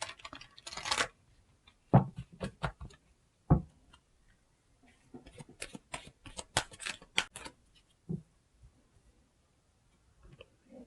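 Angel oracle cards being shuffled and drawn, heard as soft, sparse flicks, taps and riffles close by in an otherwise quiet room, with irregular clusters of crisp clicks separated by silent gaps.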